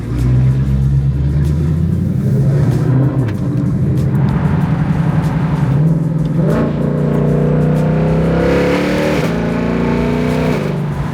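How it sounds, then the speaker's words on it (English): A car engine revs repeatedly, rising and falling in pitch over a steady low rumble, loud and close with no talking. "Let me put it in park real quick, give it a few revs for you."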